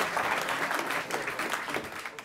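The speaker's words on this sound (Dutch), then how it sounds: "Niels, ja, geef hem een applaus." An audience in Amsterdam claps for a resident of Sloterdijk, a brisk, fairly close burst of many hands applauding steadily without pause, with a faint voice briefly underneath.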